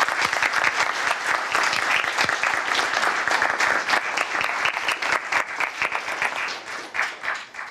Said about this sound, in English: we'll just give them one more round of applause as they have the seat.